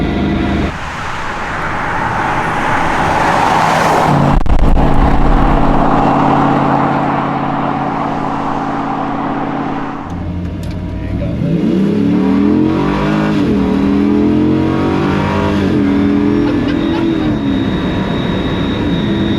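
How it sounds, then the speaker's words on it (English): An LS V8-swapped Bowler Wildcat revs and accelerates hard, loud and close, its roar building, dropping briefly as it shifts, then climbing again in pitch. "accelerating that hard in something that's so high up"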